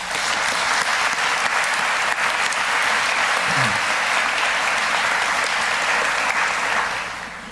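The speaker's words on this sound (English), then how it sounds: "Let's give them a round of applause." A school ceremony audience gives sustained applause for an orchestra and helpers, a loud, dense clapping roar filling the hall before fading near the end.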